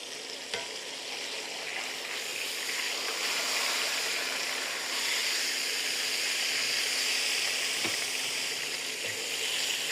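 Pork chops frying in a cast iron skillet for Southern smothered chops, a steady loud sizzle and crackle of hot oil throughout with a couple of sharper pops.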